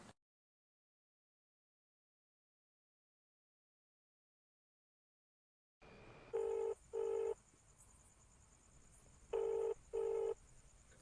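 A phone call going unanswered: after a long silence, a faint line hiss gives way to repeated ringback tones in two pairs, clear and evenly spaced, with no one speaking.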